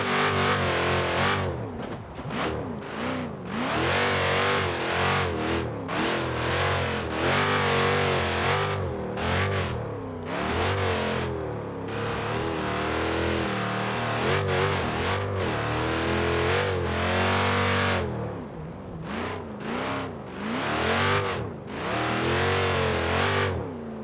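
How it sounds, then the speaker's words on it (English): A car engine in the BeamNG.drive driving game revs hard and repeatedly bounces off its rev limiter, producing loud, harsh, stuttering bursts with short pauses between the pulls. "That rev limiter is cool"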